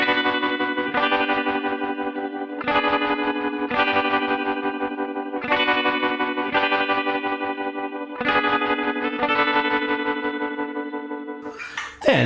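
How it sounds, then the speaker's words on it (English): Electric guitar through a pedalboard run by a Boss ES8 switcher, with sustained chords chopped by a tempo-synced rhythmic tremolo into steady pulses and a slight distorted edge, ending in a brief noisy swell. "it kills the delay and turns on a perfectly in time rhythmic tremolo"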